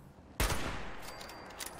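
A single sharp gunshot bursts out in the video game Fallout 76, then fades into a short decaying tail, faint overall with quiet game ambience around it.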